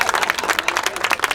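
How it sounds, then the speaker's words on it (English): A crowd at an outdoor park unveiling event in Paterson applauds, dense clapping from many hands, close and lively, without speech. "you should applaud for that one"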